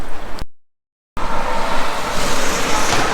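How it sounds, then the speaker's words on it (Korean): Loud, steady roar of heavy road traffic close by on a roadside walking route near Ilsan Bridge in Gimpo, South Korea, vehicles rushing past continuously after a brief cut to silence near the start. "통행 차량이 엄청 많아서 시끄럽고"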